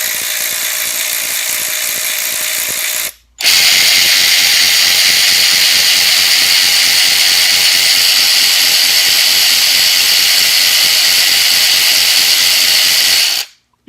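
A 12-volt cordless long neck ratchet runs at a steady, high-pitched mechanical whir, loud and close, stopping briefly once before running again for about ten seconds.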